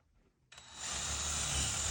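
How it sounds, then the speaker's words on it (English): A drill starts abruptly and runs steadily, boring a hole through cement and a board for anchor bolts, with a loud, sustained grinding whine close by. "Now that we have our hole drilled in the cement and in our board"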